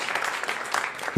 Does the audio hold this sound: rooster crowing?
no